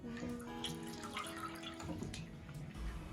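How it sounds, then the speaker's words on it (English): Water dripping and trickling steadily from wet pressed cassava paste, a continuous close patter of small drops with no talking. "extract the water from her cassava paste before frying it"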